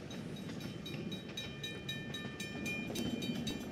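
Train rolling on rails in the video game Sunset Hills, a steady low rumble with faint rhythmic clicking and a thin tonal whine, quiet and continuous.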